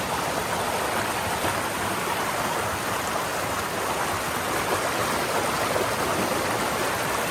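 A flowing stream rushes steadily and close by, a dense, unbroken wash of water noise that holds an even level throughout with no voices.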